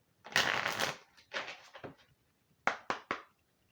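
Oracle cards being shuffled close up, a long riffling burst followed by a shorter riffle and three quick sharp card snaps, quiet and with no talking.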